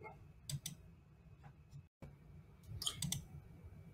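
Computer mouse clicks while inserting an image in a real estate CRM content editor, a few small dry ticks in close pairs, faint and near, with a brief dropout midway.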